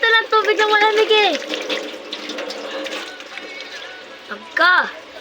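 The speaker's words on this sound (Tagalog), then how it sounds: "Nilalagyan nga kita ng tubig na malamig eh." Cold water pours in a steady splashing stream, close by and running under voices talking for most of the clip.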